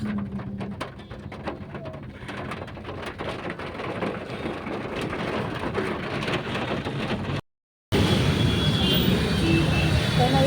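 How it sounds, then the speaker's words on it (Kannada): Heavy rain in Bangalore traffic, heard from inside a cab, makes a dense, steady roar of rain and passing vehicles. Brief voices sound through it, and the sound cuts out for a moment before resuming louder. "ಮಳೆ ಅಂದರೆ ಮಳೆ ಇವತ್ತು."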